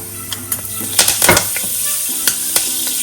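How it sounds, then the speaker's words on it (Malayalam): Mustard and fenugreek seeds sizzle and pop in hot oil for a lemon pickle, giving a steady frying crackle with scattered sharp pops and a brief stir of the pan near the middle. "കടുക് പൊട്ടി കഴിയുമ്പോൾ 1/4 ടീസ്പൂൺ ഉലുവ ഇട്ട് കൊടുക്കാം."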